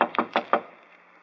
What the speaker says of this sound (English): so just to please you, I will knock on the door.